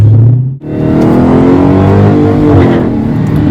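Dodge Hellcat accelerating hard with wheel spin on poor-traction tires, a loud, continuous engine roar that briefly dips then surges back and holds steady, close and alone with no talk.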